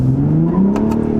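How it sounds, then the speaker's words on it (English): A 2021 Ford F-150 Raptor launching from first gear, its engine revving hard with a rising drone and brief scrabbling hiss as the tires spin, loud and close with no talk. "Got some wheel spin there."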